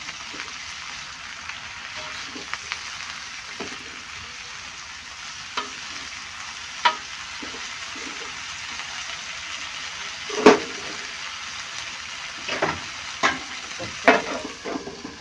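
Fish from a fishing trip stir-frying in a pan, a steady close sizzle with scattered clinks and scrapes of a spatula, a few sharper knocks near the end, no talk.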